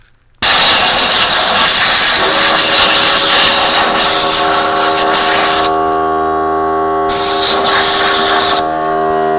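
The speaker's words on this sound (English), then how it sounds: "I have got a small portable air compressor and an air nozzle on here" A small portable air compressor blasts air through a nozzle to clean dust out of a WeCreat Vista laser engraver, giving a loud, steady hiss that cuts out briefly twice, under a constant motor hum.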